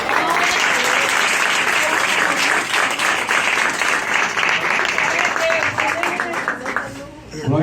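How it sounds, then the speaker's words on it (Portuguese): A church congregation applauds in a dense, sustained wash of clapping that stays loud and steady, with voices mixed in, before tapering off near the end. "Dá uma salva de palmas toda essa vida"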